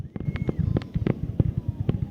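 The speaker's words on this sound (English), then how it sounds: "I watch the free fireworks show over the pier." Fireworks burst over the Myrtle Beach pier at night in a dense, continuous string of booms and crackling pops, loud and steady, with crowd voices faintly mixed in.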